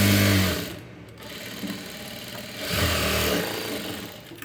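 A sewing machine stitches the front part of a blouse in two short, close bursts of rapid mechanical whirring separated by a quieter pause.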